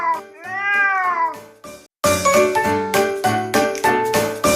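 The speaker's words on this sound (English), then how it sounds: "It's a cat." A cat gives one long, wavering meow up close and loud, then after a short gap a bright jingling, tinkling chime pattern repeats in a steady rhythm.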